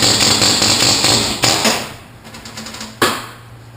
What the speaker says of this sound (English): what I have here is a bushing cutter. This is for an air hammer.